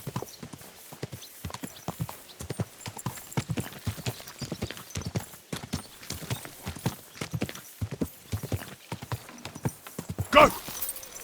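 Steady clip-clop of horse hooves in the video game Kingdom Come 2, a brisk even rhythm of close, crisp hoofbeats running throughout, ending with a short louder burst near the end.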